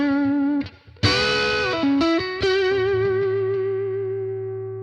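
An electric guitar played through a Mooer Radar cabinet simulator, mic set at the center of the speaker cone, rings out distorted chords and single notes with chorus and echo, ending on a long sustained decaying note.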